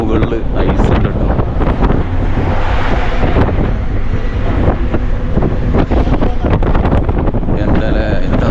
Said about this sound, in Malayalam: നല്ല തണുത്ത കാറ്റ്